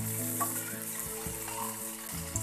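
Bombay duck fish shallow frying to a crisp in a pan of oil, a close, continuous sizzle with intermittent bubbling and faint clattering, no talking over it.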